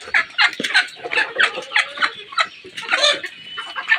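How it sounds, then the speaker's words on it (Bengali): Roosters and hens at a poultry market give off a steady chorus of clucking and gobbling-like calls, several birds overlapping in short repeated bursts at close range, with no talk. "এই যে দেখুন মোরগ, মুরগি"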